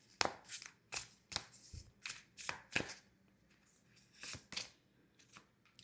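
Tarot cards are shuffled and pulled in a quiet room, giving a series of crisp riffling bursts and soft slaps at uneven intervals, close and fairly faint, with no talking.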